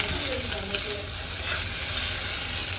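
Okra frying in a hot pan gives a dense, steady sizzle, with stirring scrapes and a light clack of a spoon near the start, close and continuous throughout.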